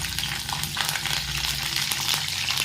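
Curry leaves hit hot oil in a pan of frying okra, giving a steady, close crackling sizzle that fills the whole moment with no voices.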